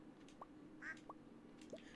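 Ducks quacking in the Stardew Valley farming game, three or four short, clear quacks spaced about half a second apart over quiet game ambience.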